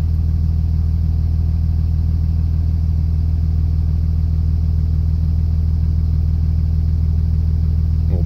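A 3rd-gen Cummins 5.9 12-valve diesel idles steadily at about 800 RPM, with a loud, even low-pitched rumble and clatter that holds throughout without change and no voices.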